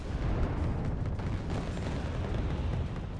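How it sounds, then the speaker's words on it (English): Bombs from an Su-24M strike aircraft exploding in the real-time strategy game Wargame Red Dragon, a dense continuous rumble of blasts with no clear gaps, loud and alone throughout. "SU-24M, dropping in bombs."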